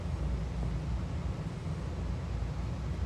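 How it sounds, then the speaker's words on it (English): A vehicle's fuel pump, on a car low on gas, pushing fuel back the wrong way, heard as a steady, unbroken low droning rumble with a faint hiss and no voices. "It's pushing the fuel back through the pump the other way."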